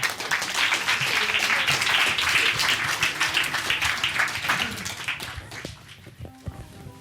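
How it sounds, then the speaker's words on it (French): Loud, dense applause from a crowd, sustained for several seconds before thinning out and fading toward the end. "Je vous demande de l'applaudir très très fort."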